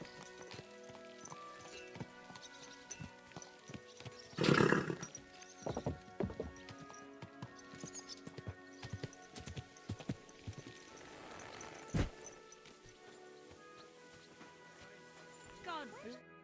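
A horse in the video game Kingdom Come Deliverance 2 gives a loud whinny, followed by scattered clip-clop hoof steps and snorts, with a voice speaking over it.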